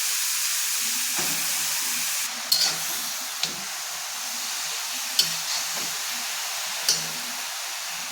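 Grated carrots fry in a little ghee for gajrela. A steady sizzling hiss carries on throughout, broken by a few sharp scrapes and taps of stirring at irregular intervals.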